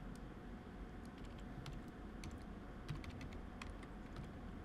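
Fingers typing C++ code on a computer keyboard, quick irregular key clicks in short bursts over a steady background hum, fairly faint and close, no voices.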